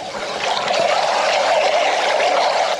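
Water runs steadily through a drain during a leak test, a loud, continuous trickling and pouring rush close by with no talk over it.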